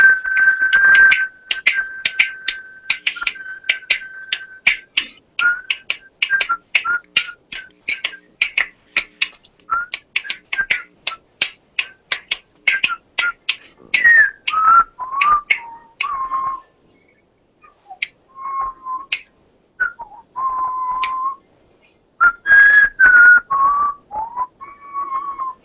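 A person whistles a song with finger snaps, a loud, close, rhythmic series of sharp snaps under a steady whistled melody that later turns choppy and broken.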